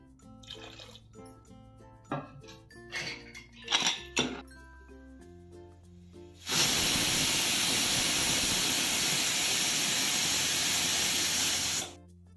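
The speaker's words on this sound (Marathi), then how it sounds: "आणि 2 शिट्ट्या घेऊन ते उतरायचं" A pressure cooker boiling drumstick pieces in water lets out a loud, sustained steam hiss lasting several seconds, preceded by light clinks and kitchen sounds.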